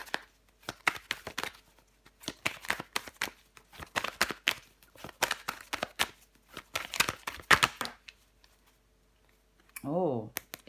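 Tarot cards shuffled and laid down during a reading, brisk clicks and flicks in quick bursts, close and distinct, followed by a pause and a short stretch of voice.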